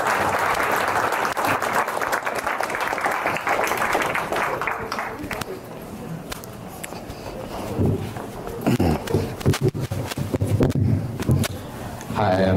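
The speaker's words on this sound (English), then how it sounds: "let's give a big round of applause to comedian Jeremy Check" A comedy show audience gives a comedian loud, dense applause that starts at full strength and fades slowly. Scattered claps, cheers and voices are heard near the end.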